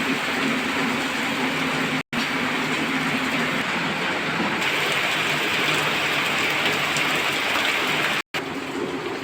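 Steady heavy rain falls without pause, a dense continuous hiss interrupted by two brief cuts, with no voices.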